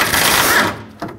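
A power tool whirs loudly for about a second as it works 10 mm bolts holding the power steering cooler on a 2008-2010 Ford F-250, then cuts off abruptly.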